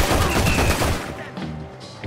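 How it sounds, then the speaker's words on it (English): A burst of gunfire in Red Dead Redemption 2 lands as a loud, close cluster of booming shots that quickly fades. "What are those guns they have?"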